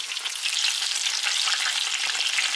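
Eggplants frying in a pan, giving a steady, dense, close sizzle of hot oil crackling without a break, with no voices.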